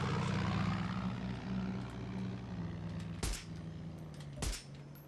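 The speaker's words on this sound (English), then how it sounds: "I'm just going to try and blow that aeroplane out of the sky" A propeller aeroplane drones overhead in the video game Far Cry 6, a steady engine hum cut by two sharp, loud bursts near the end.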